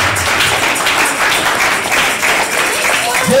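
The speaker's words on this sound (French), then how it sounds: "Acclamons pour la gloire de Dieu." A church congregation applauds for the glory of God, with dense, steady clapping that fills the whole moment, loud and close, mixed with some voices.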